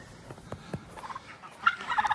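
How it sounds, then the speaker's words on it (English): A herd of turkeys gobbles on a farm in a series of short, rising bursts, with several clear calls close by against a quiet background. "The turkey herd."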